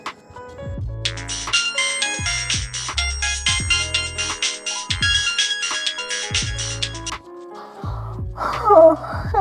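An incoming-call ringtone on a phone plays as a loud, close, repeating melodic chime pattern for several seconds, ending with a brief voice sound.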